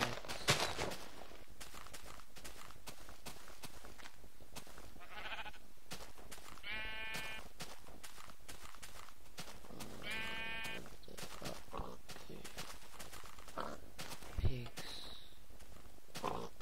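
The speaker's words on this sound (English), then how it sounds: "There's pretty sheep everywhere." Minecraft sheep bleat a few times, short wavering cries spaced apart, with faint footsteps and a quiet game soundscape while a player talks between them.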